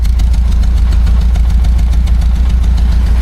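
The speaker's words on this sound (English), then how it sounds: "sounds like exhaust there. It's pretty clean there." A BMW 2002 engine with a Weber-style carburetor idles loudly up close, its exhaust giving a steady, rhythmic low rumble with a quick pulsing beat throughout.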